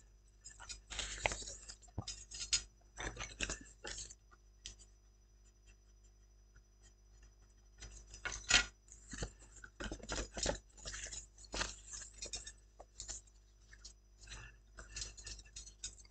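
Paper being scored along fold lines for a small Christmas post box table decoration, heard as faint, close scratchy strokes in irregular bursts over a low steady hum, with no talk.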